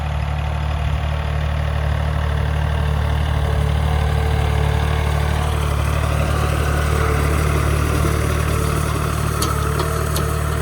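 A big tractor's diesel engine idles on a farm with a steady low throb and vibration, constant and close, with no voices.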